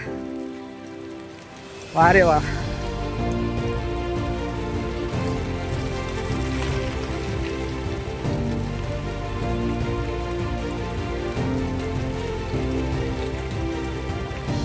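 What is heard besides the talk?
rain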